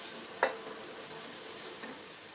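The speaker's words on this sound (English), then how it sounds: "we're stir frying the onions, the beef, and the tomatoes." Onions, beef and tomatoes stir frying in a hot pan give a soft steady sizzle, with a single sharp clink of a utensil near the start.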